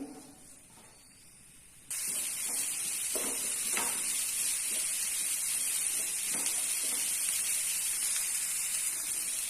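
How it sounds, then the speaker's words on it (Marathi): Onion and garlic hit a hot pan and burst into a loud, steady hiss that carries on without break, with faint stirring scrapes and no talk. "कांदा मी चांगला कांदा लसूण चांगला मी परतून घेते"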